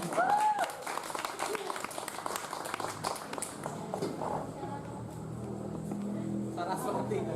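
Audience clapping at an evening poetry reading, a scattered round of applause that swells briefly then thins, with voices and movement noise underneath and a steady background hum toward the end.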